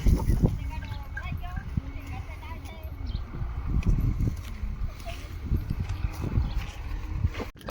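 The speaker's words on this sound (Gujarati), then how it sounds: "આપણે સાંજના બળદગાડો લઈને જઈએ ઘરે" Bullock hooves clop in a steady walking rhythm as a bullock cart rolls along, with people talking throughout.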